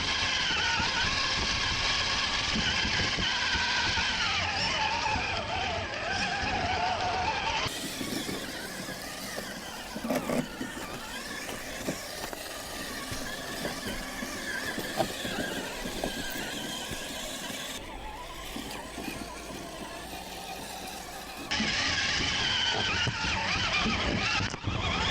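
A cheap RC crawler truck grinds steadily over rough terrain, its small electric motor whining close to the microphone with continuous scrabbling and squeals for the full stretch.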